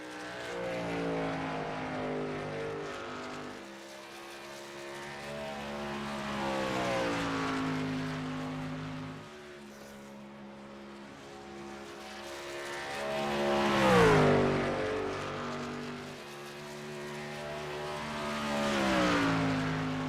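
Race trucks qualifying on the oval at Dover under overcast skies, engine drones rising and falling in pitch as they pass at a distance, with a louder swelling pass midway through and no talk.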